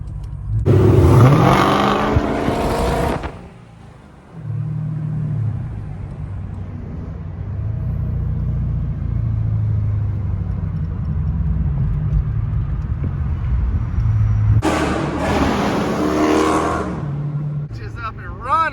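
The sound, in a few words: Dodge SRT8 car engine revving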